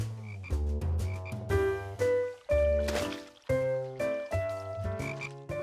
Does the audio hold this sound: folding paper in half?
no